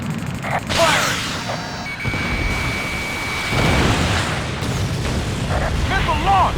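A missile launches during aerial combat in Ace Combat: Assault Horizon, a loud rushing roar and rumbling boom amid jet engine noise, with a sustained whine and tonal warning beeps layered over the din.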